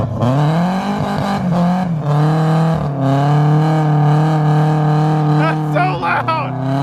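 BMW E36 328is drift car engine revs loudly at a street drift session, a sustained roaring drone with rising pitch sweeps and a brief squeal near the end, while people talk over it.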